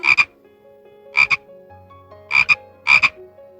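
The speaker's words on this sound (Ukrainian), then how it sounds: "Вірно, це жаба." Four loud, close frog croaks, each a quick double-pulsed rasp, spaced about a second apart over a faint steady hum.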